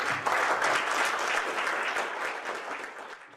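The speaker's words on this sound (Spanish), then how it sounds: "Gracias por estar aquí y un aplauso para todos." Audience applause at a municipal public finance event, a steady dense wash of clapping from a crowd that stays loud throughout and tapers slightly toward the end, with no voices over it.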